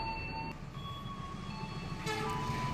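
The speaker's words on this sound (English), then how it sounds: "This high-speed train is intercity train." A high-speed intercity train in Indonesia rumbles past at moderate distance, with steady rolling noise, faint tonal whines and a brief rise in intensity near the end.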